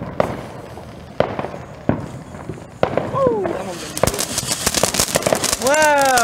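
Independence Day fireworks go off outdoors: a series of sharp pops and crackles, then whistling rockets rising, with people talking and reacting nearby.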